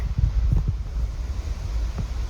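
Strong wind buffets the microphone on the 4,200-foot summit of North Isolation Mountain along the Appalachian Trail, a steady low roar with heavier gusts near the start and again toward the end, with no voices.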